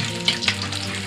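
Garlic fries in a pan with a loud, steady sizzle at close range, broken by a couple of brief crackling spurts. No one talks.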